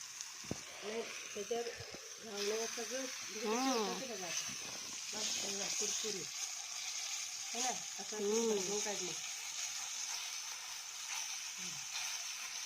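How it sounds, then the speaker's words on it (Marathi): Rawas fish frying in oil on a cast-iron tawa over a wood-fired chulha gives a steady, close sizzle throughout, while a person talks over it intermittently. "भिड्याचा तवा त्याच्यावरती मच्छी फ्राय"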